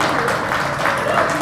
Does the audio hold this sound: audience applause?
yes